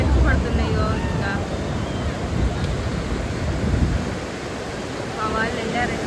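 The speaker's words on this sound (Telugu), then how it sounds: "చూడండి అలలు ఎంత ఎక్కి పడుతున్నాయో" Ocean waves surge and break continuously at Chirala beach, a broad roar mixed with wind buffeting the microphone, while people's voices come through faintly in the background.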